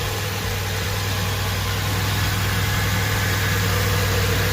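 A Mercedes C63s AMG with a newly installed VRP intake idles while warming up, a steady, loud, deep drone with constant low vibration and no variation in rhythm.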